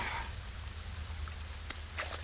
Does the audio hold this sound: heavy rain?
yes